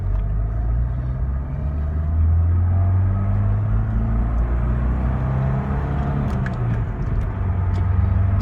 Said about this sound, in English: We'll get out onto the road here and get some speed up,